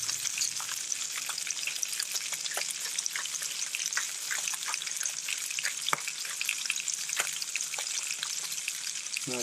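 A rainbow trout fillet fries in a pan with dense, steady sizzling and scattered crackling pops, close and continuous throughout.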